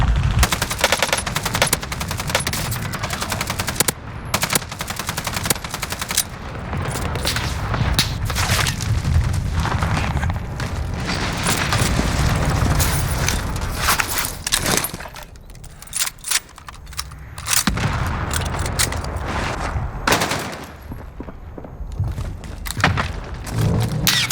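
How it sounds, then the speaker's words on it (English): Rapid automatic gunfire and heavy booms from the Warzone video game, Operation Monarch mode, crackle in dense bursts throughout with brief lulls, occasional thuds and footsteps mixed in, loud and close. "Receiving hostile fire."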